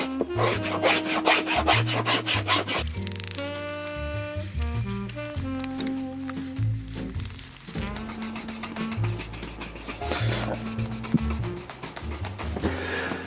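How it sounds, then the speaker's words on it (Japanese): A file is rasped across a leather shoe sole to roughen it for gluing, rhythmic scraping strokes close up, heard under prominent background music. "この後アウトソール貼るので接着ができるように ヤスリで荒らしておきます。"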